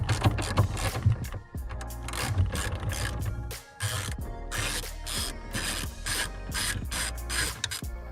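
A hand ratchet fitted with swivel joints and extensions clicks rapidly in close, repeated bursts while turning bolts during an electric power steering install on a Mazda Miata, with short pauses between strokes.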